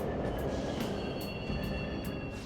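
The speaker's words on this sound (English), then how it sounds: "The trains are totally running!" A subway train runs through an underground station with a continuous, loud rumble, a rhythmic clatter of wheels and faint high metallic squeals throughout.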